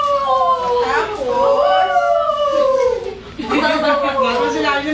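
A person imitates a dog's howl in long, wavering, rising and falling howls that are loud and close, with a short break near the middle, during a children's play rehearsal.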